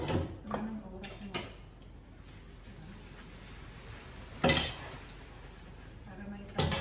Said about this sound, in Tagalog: Pag inaantay mo yung luto, maghugas ka ng pinggan.